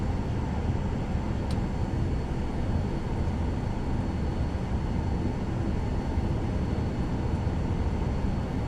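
A passenger airplane taxiing at speed past terminals in Sydney, Australia, in Microsoft Flight Simulator 2024, a steady low engine rumble and roll that runs continuously throughout, with no voices.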